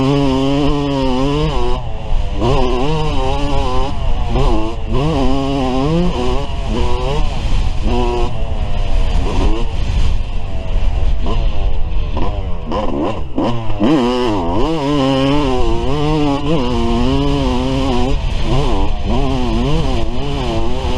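Yamaha YZ250 two-stroke dirt bike fitted with a Pro Circuit pipe and Shorty silencer, ridden hard with a loud, continuous high-pitched wail that rises and falls through repeated revving and gear changes, close to the mic.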